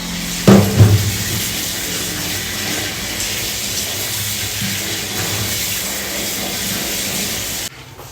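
Tap water runs steadily into a kitchen sink as vegetables are washed, a continuous close hiss and splash with a brief louder gush near the start, stopping abruptly at the end.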